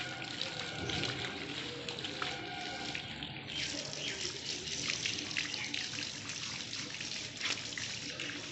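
Tap water running steadily while a German Shepherd is bathed, a continuous splashing stream with small drips and trickles, fairly close and alone.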